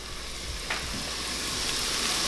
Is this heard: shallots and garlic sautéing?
yes